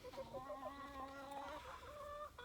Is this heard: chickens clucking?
yes